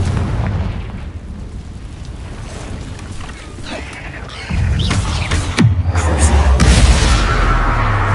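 Confringo fire-spell explosions in the video game Hogwarts Legacy: loud rumbling booms that swell in the second half over continuous game ambience.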